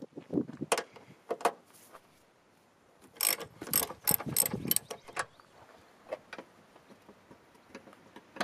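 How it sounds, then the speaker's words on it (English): Ratchet wrench loosening the strut top bolts on a Toyota Yaris MK1, heard as short bursts of rapid mechanical clicking with pauses between strokes, close and moderately loud, no talking. "Loosen the strut top bolts."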